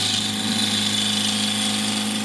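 A gouge cutting a wooden bowl made from firewood on a lathe, with the cut nearly through at the rim: a steady, loud whine of the spinning lathe with continuous scraping, unbroken and close, with no talk.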